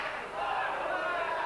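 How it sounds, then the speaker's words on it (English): Wrestling crowd at a Frontier Wrestling Association show roaring and chanting together for Jonny Storm, a dense, continuous wall of shouting voices that swells slightly after the first moment. "The crowd getting right behind Jonny Storm"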